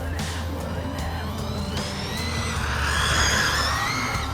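A 4-wheel drive buggy in a dirt cross run, engine droning steadily with low rumble and rising whine as it drives over dirt, loud and close, with no speech.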